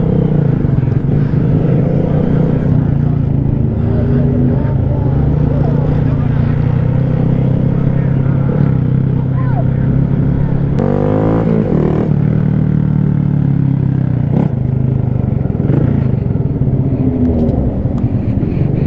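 Several motorbikes, including a Suzuki and a DRZ, rumble and rev together on a city street late at night, a loud steady engine drone with a brief rising rev in the middle and riders chatting over it.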